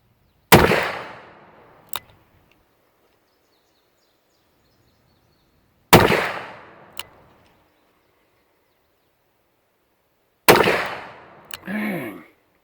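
Three loud, sharp blasts from a Smith & Wesson Model 29 .44 Magnum revolver fired at a target, spaced several seconds apart, each followed by a short ringing tail and a faint click or echo, with no talking.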